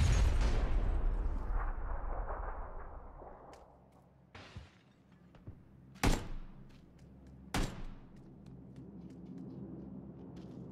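Grenade blast in PlayerUnknown's Battlegrounds, a loud booming explosion that rumbles and fades over several seconds, followed by a few sharp thuds and bangs, no talk.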